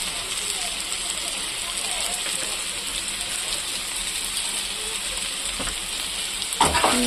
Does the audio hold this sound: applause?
no